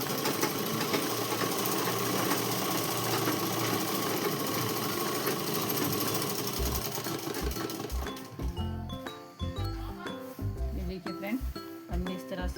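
A sewing machine runs steadily, stitching a straight seam along a half-inch marking on a shalwar, its continuous whir filling the first half before breaking into shorter bursts and pauses.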